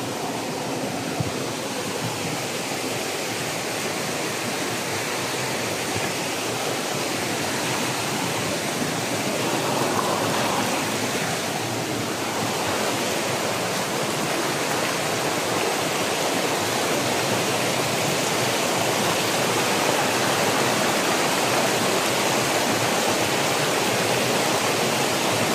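A creek runs steadily along a trail, its even, dense rushing wash staying loud and unbroken from start to finish, close by and with no voices over it.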